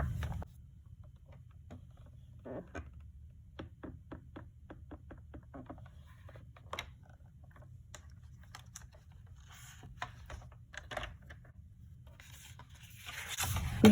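Scoring tool drawn across a paper card from top toward a cut, a quiet series of short dry ticks and scratches close by, with a faint low hum underneath.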